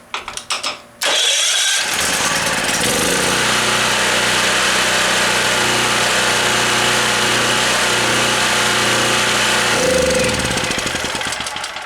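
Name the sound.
gasoline generator engine starting and running after cold start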